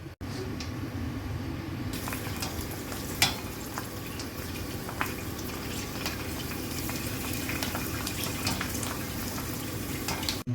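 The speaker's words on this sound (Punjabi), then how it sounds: "ਕੜਾਹੀ ਚੜ੍ਹ ਗਈ ਹੈ ਅਤੇ ਹੁਣ ਗੋਲ ਗੱਪਾ ਜਿਹੜਾ ਨਾ ਫਰਾਈ ਹੋਣ ਲਈ ਗੋਲ ਗੱਪੇ ਤਿਆਰ ਨੇ" Gol gappe puris fry in hot oil in a karahi, giving a steady, dense sizzle with scattered sharp crackles and pops for about ten seconds. No one speaks.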